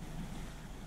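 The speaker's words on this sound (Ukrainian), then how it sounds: "Вода закипіла, додаю трішки солі" Steady low rumbling bubble of water at a boil in a pot, a dense continuous churn with no talk over it.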